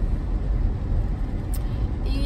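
A car driving along, a low steady rumble of road and engine noise heard from inside the vehicle, continuous throughout with no clear speech.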